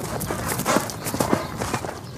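Horses' hooves clip-clop in a steady stream of overlapping hard knocks, as if several animals are moving together, fairly loud and continuous with no pause.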